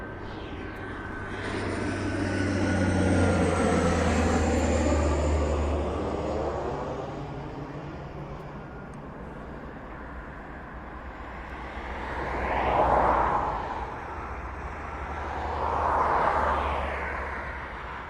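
An aircraft approaches to land at East Midlands Airport: a distant engine roar swells and fades, then two further rushing surges rise and pass later, with no voices.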